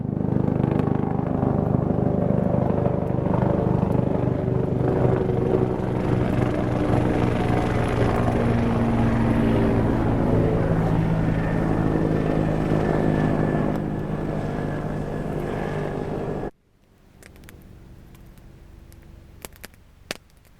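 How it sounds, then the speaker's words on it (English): A helicopter passes over a bushcraft basecamp in the woods, a loud steady rotor-and-engine drone that dominates for about sixteen seconds before cutting off abruptly, leaving quiet with a few faint clicks. "Let the helicopter go by and I'll show you the setup."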